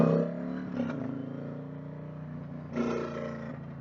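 An Indian Challenger motorcycle fitted with a 112 big bore kit runs close by, its deep steady engine drone rising in two short throttle swells over a continuous rumble.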